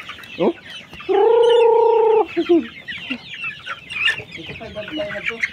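Several chickens cluck and chatter close by, with one drawn-out, steady call standing out above a busy, outdoor background.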